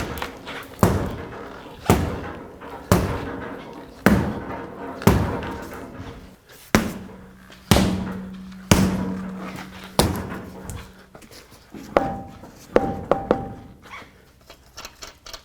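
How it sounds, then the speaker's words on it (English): A rubber mallet strikes the back of a stuck wheel on a 1997-2003 Ford F-150 about a dozen times, each blow a dull, close thud spaced roughly a second apart, with a faint ringing tone under a few hits. "use a rubber mallet and hit it from the backside"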